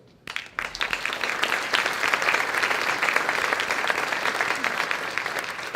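Audience applause at an awards gala honouring sponsors, a dense crowd clapping steadily and fairly loud after a brief quiet start, sustained for several seconds.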